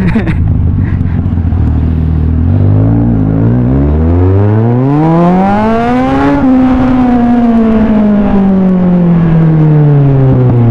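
A Z1000R sport motorcycle engine revs up sharply, pitch climbing to a loud peak, then slowly winding down while the rider holds the throttle nearby.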